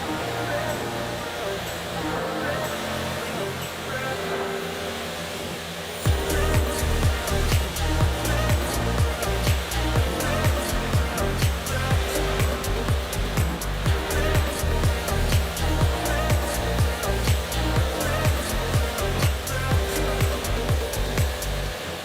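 Pressure washer spraying a barn-find Honda Prelude during its first wash in ten years, a steady loud hiss that jumps up sharply partway through and continues with pulsing, sputtering spray bursts, no talk.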